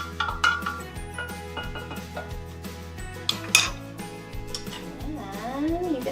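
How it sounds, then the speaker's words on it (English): A spoon clinks and scrapes inside a container of sweetened sun tea in a few light metallic taps, close and fairly quiet, with a low hum underneath. "Give it a little stir."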